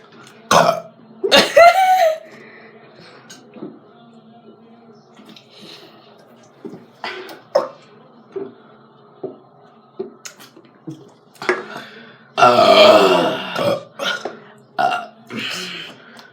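A child burping several times at home after drinking pop, with loud, rough burps scattered across the clip between quieter gaps, some bursts long and others short, and faint talk and small handling noises in between.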